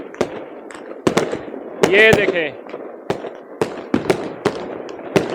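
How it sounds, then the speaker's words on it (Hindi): Firecrackers pop repeatedly at a New Year celebration in Norway, sharp loud bangs at irregular intervals, some near and some farther off, with someone speaking briefly among them. "पटाखे बजने यहाँ पे शुरू हो गए हैं"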